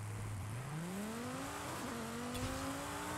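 A tuned 1,136 hp Dodge Viper ACR drag-launches in Forza Horizon 5, its engine pitch climbing steadily through the gears with a brief drop at a shift, loud and continuous with no voices.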